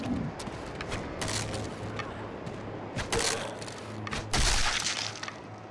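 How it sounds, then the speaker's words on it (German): Several sharp, heavy explosions and crashes ring out amid continuous noise in the video game How to Survive, with a low steady hum underneath and broadband blasts recurring every second or so. "Die explodieren aber ordentlich, wenn sie angeschossen werden."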